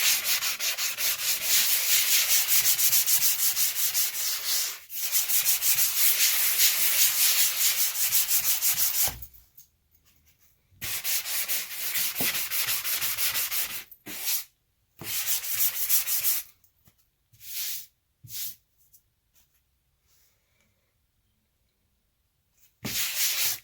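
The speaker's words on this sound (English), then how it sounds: "what we're going to be doing now is sanding" Rhythmic scraping of sandpaper over dried spackle on a wall, long continuous strokes at first, then shorter bursts broken by pauses, close and clear.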